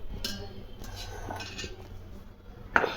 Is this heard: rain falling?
no